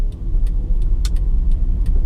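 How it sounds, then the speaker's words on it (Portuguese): A Honda Fit (second generation) pulling away on a street after a tight full-lock turn, a steady low engine hum with faint clicks, close and continuous with no talk. "Saindo aqui com o carro."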